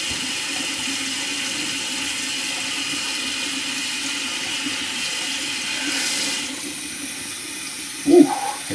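Hot water runs from a sink tap at full heat, a steady hissing stream that stays even and moderately close, with a faint clink near the end.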